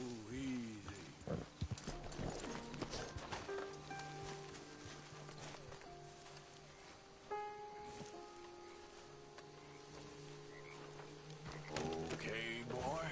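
Horse hooves clip-clop steadily on the ground in the Red Dead Redemption 2 video game as a rider urges the horse on, a quiet, continuous rhythm of footfalls under ambient game sound and music.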